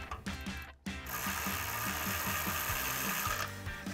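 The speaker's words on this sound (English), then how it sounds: "take our 15 millimeter socket to tighten our nuts down" A socket ratchet tightens exhaust flange nuts on a 2016–2023 Camaro SS during a Borla cat-back install, giving a brief click, then a rapid, steady stream of close pawl clicks.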